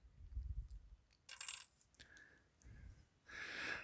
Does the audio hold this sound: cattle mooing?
no